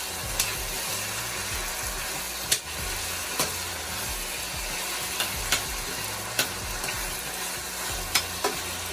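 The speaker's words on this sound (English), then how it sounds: "I'm gonna cook it down until my veggie gets soft." Onion, sweet pepper and tomatoes fry in oil in a pan, a steady close sizzle with occasional sharper pops and stirring clicks throughout, no voices.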